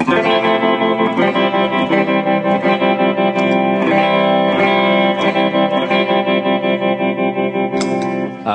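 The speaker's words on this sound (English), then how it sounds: "Got a tremolo on here as well." Sustained electric guitar chords with a pulsing, wavering tremolo effect, loud and continuous with a slightly distorted, washy tone throughout.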